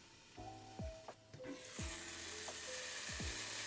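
Finely chopped purple and green kale, stems removed, sizzles in a pan, a steady quiet frying hiss with several sharp scraping stirs of a utensil and a faint background hum.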